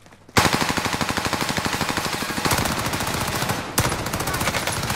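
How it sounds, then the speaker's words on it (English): Loud, close automatic gunfire in the Call of Duty: Modern Warfare video game: rapid sustained bursts of shots with a short pause before a fresh burst. "We're taking fire."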